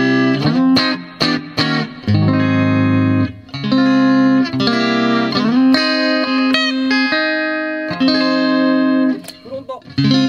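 An electric guitar is played through a Zoom MS-50G+ multi-effects pedal set to a Twin Reverb amp model, ringing out clean sustained chords and quick strummed notes with a bright, slightly reverberant tone, loud and without talk.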